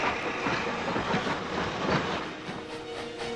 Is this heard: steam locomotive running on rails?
yes